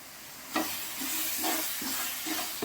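Chicken gravy masala with homemade chilli powder sautés in a pan, hissing and sizzling close up as a spoon scrapes through it in short, repeated stirring strokes.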